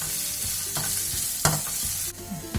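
Small onions fry with ginger and garlic in a hot pan for a Kerala dish, a loud steady sizzle broken by several sharp scrapes of stirring, with no talking.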